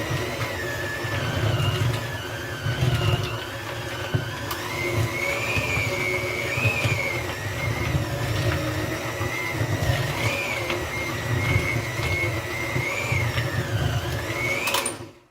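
A stand mixer churns chocolate chip cookie dough with added nuts, its motor holding a steady, loud whir for the whole stretch with no pauses or talk.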